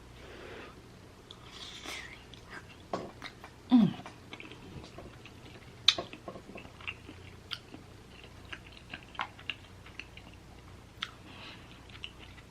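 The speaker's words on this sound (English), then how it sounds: "We're gonna eat a little bit and then we're gonna chit chat" Quiet chewing and biting of lobster claws and lobster ravioli in creamy vodka sauce, with soft wet mouth sounds, a few sharper crunchy bites and clicks scattered across the stretch, close to the mic, no talking.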